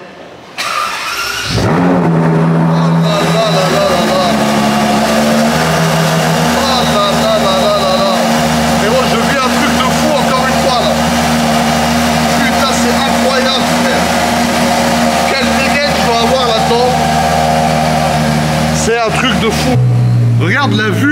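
A Ferrari Monza SP1 engine cranks and fires, then settles into a loud, steady idle that runs for about twenty seconds, with a voice speaking over it.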